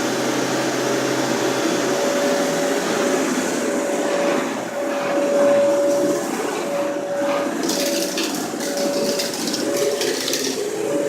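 A Kenmore Elite or Dyson Cinetic Big Ball Animal vacuum cleaner runs steadily over carpet, a loud continuous motor hum with a faint tonal whine and brush-roll rustle, nearby and alone.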